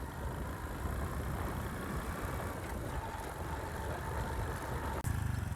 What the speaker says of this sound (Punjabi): ਮੋਟਰਸਾਈਕਲ ਉਲਟਾਉਣ ਤੋਂ ਬਾਅਦ ਇਹ ਸਟਾਰਟ ਤਾਂ ਹੋਇਆ